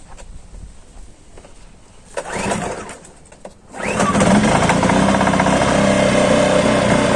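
A Voin DV 1500I inverter generator is cranked with a couple of brief pull bursts before it catches. It then settles into a steady, loud, buzzing run close by.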